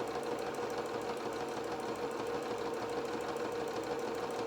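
A sewing machine stitches a buttonhole on a baby bib with a faint, steady, rapid mechanical hum that runs continuously without pause.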